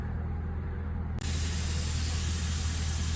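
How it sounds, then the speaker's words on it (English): Back gouging a weld on a trailer gives a loud, steady roaring hiss that starts abruptly after a quieter stretch of background noise and continues unbroken, close and alone. "Little back gouge."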